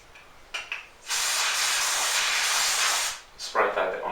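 Aerosol oil sprayed onto a rag for cleaning a PCP air rifle, one continuous close hiss lasting about two seconds, framed by brief handling rustles before and after.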